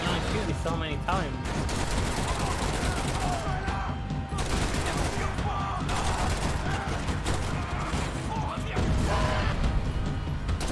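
Max Payne 3 gameplay gunfire, dense bursts of shots and impacts crackling through a chaotic firefight, with a player talking over the action.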